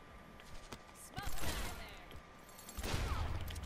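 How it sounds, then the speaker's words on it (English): A double-barrelled shotgun fired in a video game, two short sharp blasts about a second and a half apart against quiet background noise. "will the double shotgun set it off as well?"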